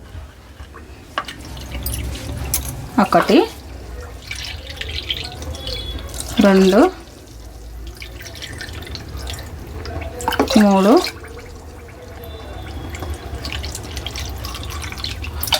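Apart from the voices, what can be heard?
water poured into a pot, measured cup by cup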